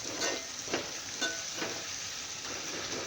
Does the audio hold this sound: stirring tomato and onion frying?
yes